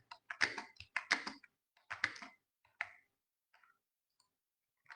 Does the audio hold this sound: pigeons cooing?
no